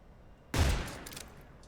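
A single short, muffled burst of gunfire in Metal Gear Solid Delta. It hits suddenly and fades quickly, with no talking.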